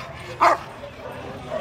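A guard dog at a Friday market for private security and facility guard dogs gives a single short bark, fairly close, over low background murmur and street noise.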